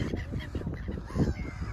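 Seagulls call in a busy, overlapping chorus at a seaside spot where they are fed, harsh cries packed close together over the brief stretch.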